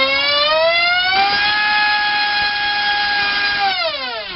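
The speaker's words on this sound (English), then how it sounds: "It makes a funny noise once it goes past a certain RPM, that prop." A DYS 2306 2500kv drone motor on a 4S battery spins a 6-inch two-blade prop, a loud steady whine that climbs in pitch, holds high for several seconds, then winds down near the end.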